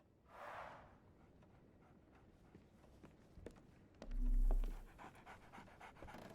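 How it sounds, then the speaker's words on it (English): A dog pants briefly in a Sherlock Holmes The Awakened video game, a short burst of quick breaths near the start, followed by soft footsteps and a low thump in a quiet scene. "So, Barnes has a dog now."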